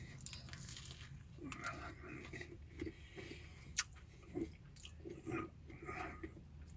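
Close, quiet chewing of a crunchy Greggs festive bake, with soft bites and occasional crackles and crunches spread over several seconds, without talk.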